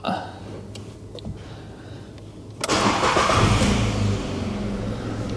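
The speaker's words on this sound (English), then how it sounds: "Now these, I'm pretty sure, are 3 cylinders. So they do sound like a sewing machine." A VW Up three-cylinder petrol engine, a budget car sold as a run and drive, cranks and fires up after a quiet moment, then settles into a steady, close, buzzy idle.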